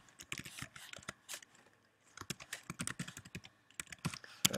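A password tapped out on a computer keyboard, with quick close key clicks in irregular bursts and a brief pause in the middle, no talking.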